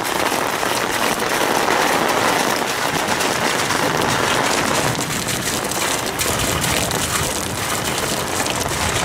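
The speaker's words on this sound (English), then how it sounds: "So much needed rain." Steady, dense summer rain falls outdoors after several days of 90-degree heat near Boston, a continuous close hiss of drops spattering on surfaces with no voices over it.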